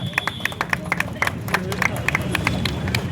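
An audience claps in a burst of applause at a mobile shop launch event in Maheshtala honoring an actress, with crowd chatter and a voice over the claps.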